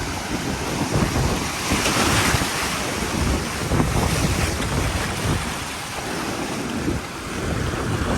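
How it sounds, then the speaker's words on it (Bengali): Waves surge against the rocks at high tide on the rocky beach at Patuartek near Inani, Cox's Bazar, a steady, loud roar of surf with gusting wind buffeting the microphone throughout. "জোয়ারের সময় অনেক জোরে জোরে পানি আসছে এগুলোতে"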